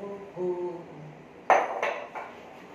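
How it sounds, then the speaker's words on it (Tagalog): Dishes, pots and pans being washed, with metallic clinks and a few sharp clatters of pans knocking together, loud and close, following a stretch of faint tonal ringing. "naghuhugas na naman"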